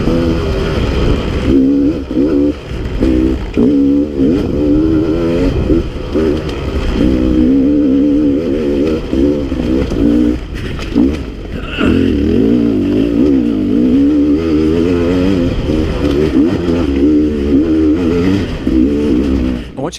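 Beta 300RR two-stroke dirt bike engine on a loose, rocky trail, droning steadily and spinning up in short revving bursts throughout, loud and close.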